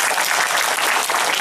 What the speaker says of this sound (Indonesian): Tepuk tangan dulu untuk Bu Wakil Bupati.